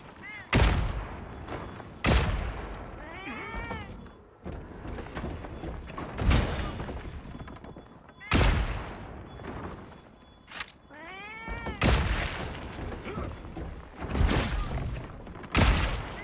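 Spread ammo bowgun volleys from Monster Hunter, loud cracking bursts of scattered shots repeating every couple of seconds, each with a short sharp attack and decay, alongside other game effects.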